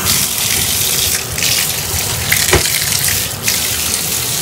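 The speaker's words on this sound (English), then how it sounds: "So while she's transferring herself, I will turn the water on." Tap water gushes steadily into a bathtub being filled for a disabled child's bath, a close, continuous rushing stream with no voices.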